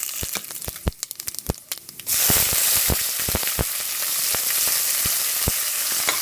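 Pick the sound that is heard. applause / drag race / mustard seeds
mustard seeds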